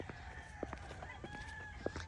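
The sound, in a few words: chickens clucking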